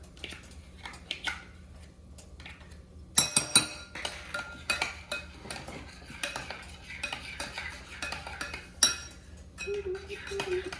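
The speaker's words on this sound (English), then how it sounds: "We're going to stir that all together." Ketchup, mustard and mayonnaise being stirred together in a bowl, with a utensil scraping and clinking against the sides in uneven bursts, loud near the start and then steadier, with no talking.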